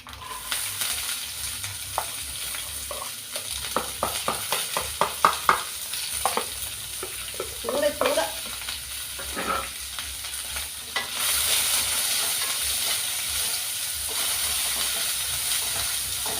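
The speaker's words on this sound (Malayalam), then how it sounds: "ഇനി നമുക്ക് ഉള്ളിയും തേങ്ങയും എല്ലാം കൂടെ വറക്കാം" Steady frying sizzle as onion and coconut fry in a pan, with bursts of stirring and scraping in the first half, then a louder, even hiss of sizzling.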